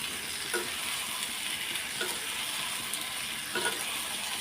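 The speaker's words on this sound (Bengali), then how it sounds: "আলুগুলো দিয়ে এখন কষাবো" Steady sizzling of potatoes sautéing in a frying pan, with a few brief stirring scrapes against the bottom.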